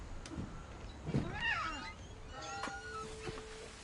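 A cat meows in the video game What Remains of Edith Finch, giving a couple of wavering, drawn-out meows over a quiet, hissy game background with some faint tonal sounds, and no talk.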